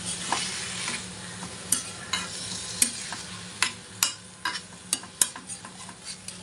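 Banana flower curry frying in a pan, with a splash of water added, gives a steady close sizzle broken by a dozen sharp scrapes and clacks of a spoon stirring against the pan, uneven in rhythm, with no voices.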